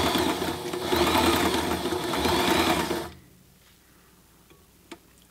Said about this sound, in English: let me do a few stitches here and see how it looks